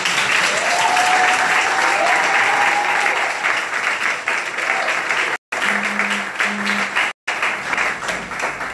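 Audience applause at a poetry event honoring a priest, strong and sustained, with brief tonal whistles or murmurs mixed in and two short dropouts near the end.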